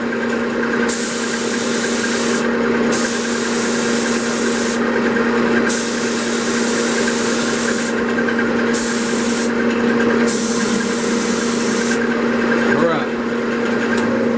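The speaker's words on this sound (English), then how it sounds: "I'm going to turn my lathe on slowest speed" Steady mechanical hum of a wood lathe turning a maple vase at its slowest speed, a constant tonal drone with a faint broadband hiss that cuts in and out repeatedly.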